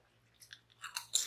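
Crunchy Japanese snack being chewed close to the mic, a few quiet crisp bites building to a louder crunch at the end, with no talk.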